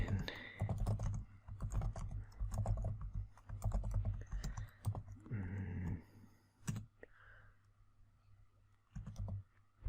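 Quick clattering keystrokes on a computer keyboard come in rapid bursts with short pauses, close and crisp, while a voice speaks softly in between.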